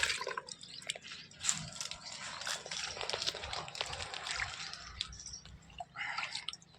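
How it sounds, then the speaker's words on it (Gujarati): Water splashes and trickles into a bird water bowl outdoors, a quiet continuous pour with soft drips and sloshes, faint and close. "હવે આને પાણી ભરી દઈએ."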